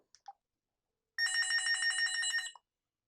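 A Cisco IP desk phone rings with one clear electronic trill lasting over a second, close and alone in a quiet room, after a few faint clicks.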